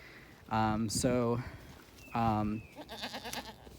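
A large fully grown castrated male goat of about 150 pounds bleats loudly and close by, giving two long wavering calls, another long call a moment later and then a quicker stuttering bleat at the end.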